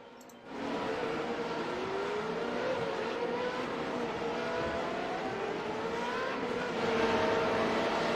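Renault 3.5 race car on a flying lap at Circuit Gilles Villeneuve, its engine screaming steadily at high revs with rising and falling pitch through gear changes, loud and sustained from start to finish with no talk.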